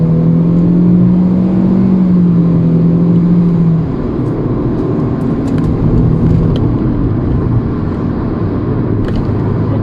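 A 2022 Proton Iriz Active car accelerates hard at full throttle, heard from inside as a loud engine drone that climbs in pitch, then settles into a steady roar with road and wind noise.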